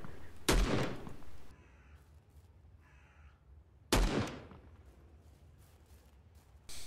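Two loud bursts of gunfire in the online survival shooter Will To Live Online, each a sharp blast trailing into a reverberant tail, separated by quiet ambient game sound with faint bird-like calls.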